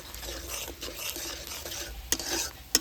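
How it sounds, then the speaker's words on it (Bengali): Spices for vegetable khichuri being stirred and sautéed in a pan, giving continuous scraping and a light sizzle with two sharp clinks of the spoon against the pan near the end, fairly quiet and close. "এবারে ভালো করে কষে নেব"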